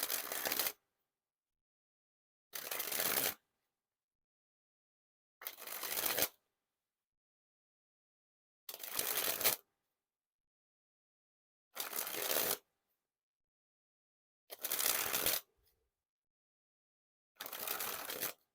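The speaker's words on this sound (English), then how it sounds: "first we'll start with the springs" A deck of Con playing cards is sprung hand to hand in seven separate bursts of crisp, rapid riffling, each under a second long and spaced by quiet pauses, close and fairly soft.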